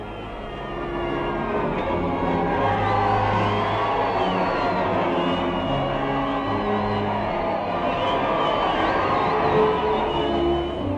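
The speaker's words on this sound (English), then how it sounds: "followed by the same tumultuous cheering." Tumultuous cheering from a large crowd welcoming American Army troops in England during World War I, a steady roar of voices and shouts that holds at the same level throughout.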